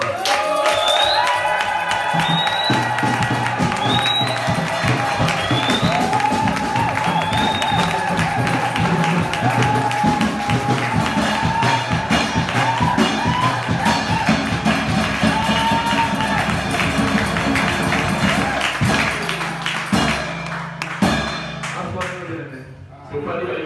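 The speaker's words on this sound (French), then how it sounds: "Acclamons pour Jésus-Christ." A church congregation cheers and shouts acclamations for Jesus Christ, a loud, sustained crowd roar with applause and voices that holds steady for about twenty seconds before fading at the end.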